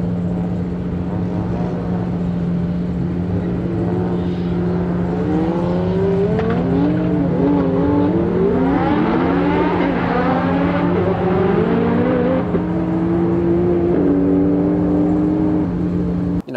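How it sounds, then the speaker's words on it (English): Nissan R35 GT-R street car revving and accelerating through repeated climbing engine sweeps over a constant steady drone, loud and close with no talk. "so just ramping the car up throughout the night, see how the car reacts."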